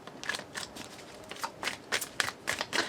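Tarot cards being shuffled and drawn from the deck, a run of about ten quick, crisp papery flicks and snaps in an irregular rhythm, close and clear with no talk.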